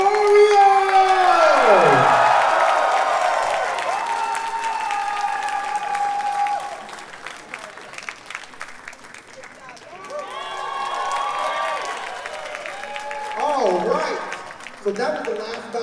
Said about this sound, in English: one more huge round of applause for Oreo!